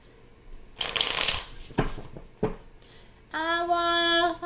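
A deck of tarot cards is shuffled in quick bursts, crisp riffling and soft slaps of card stock close to the microphone, ending with a brief tonal sound.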